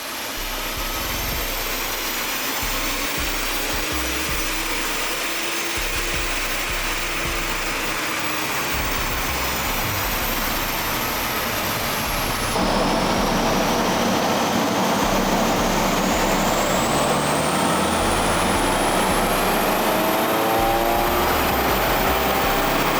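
A 1.9 TDI PD130 diesel engine in an Audi A4 with a new hybrid turbo runs on a dyno, a loud sustained drone that rises steadily in pitch as it revs up, with a jump in intensity partway through.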